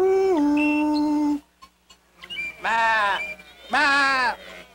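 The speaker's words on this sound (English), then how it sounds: "Baa! Answered the rams." Rams in a sheepfold let out several long, loud bleats in close succession as a sound effect in a children's Bible story reading, heard close with no talk over them.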